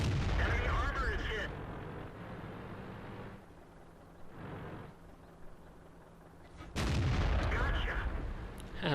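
A tank cannon fires in World of Tanks: a heavy boom at the start, then a quieter low rumble, and a second loud blast near the end, with engine hum and muffled talk in between.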